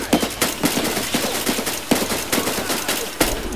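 Rapid bursts of gunfire and impacts in the Escape from Tarkov shooter game, loud sharp repeated cracks with a heavy blast at the end, no talking.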